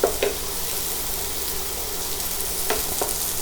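Potatoes fry in oil over medium-high heat, making a dense, even sizzle with a few light clicks of a utensil. The sound is close and steady, with no voices.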